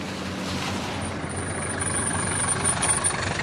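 A taxi engine idling at the roadside, a steady low rumble with a faint mechanical hiss, constant and fairly close, with no talk over it.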